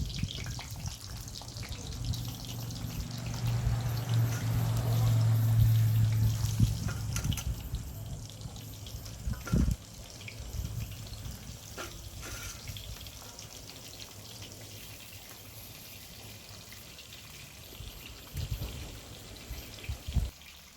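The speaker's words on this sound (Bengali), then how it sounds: "তেলটা হালকা গরম হয়ে গিয়েছে, এবারে আমি পটলগুলো এর মধ্যে ভেজে নেব।" Pointed gourds (potol) frying in lightly heated oil: a steady, fairly quiet sizzling hiss with faint crackles that continues throughout, with no talking.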